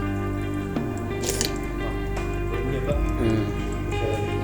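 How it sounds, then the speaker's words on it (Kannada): Water drips and trickles in a resonant, echoing cave, Siddappaji cave at Kunduru Betta, with a steady low hum and scattered splashy drops throughout. "ಸೌಂಡ್ ಬರ್ತಾ ಇದೆ ನೋಡಿ ನೀರು"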